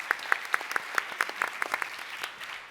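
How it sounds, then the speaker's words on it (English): Brief, light applause for a judging panel from a small group, quick scattered claps that fade out within a few seconds. "round of applause to the judges"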